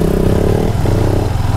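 KTM Duke 200 motorcycle engine running on a street, a loud, close, steady mid-pitched engine drone with a slight shift in pitch partway through, no voices over it.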